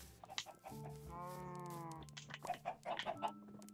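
Chickens in a farming video game give a drawn-out, tonal cluck followed by a few short, soft clucks and chatter, faint and close, with no talking.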